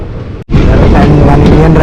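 The Palnadu Superfast Express 12747 (Guntur to Secunderabad) runs through Nallapadu junction without stopping. A sudden loud, steady roar of the passing train begins after a brief lull and stays close and constant throughout.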